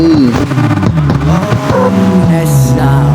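Car X Trip racing game car driving, a loud steady engine drone with shifting pitch as the car speeds up and slows, with music playing over it.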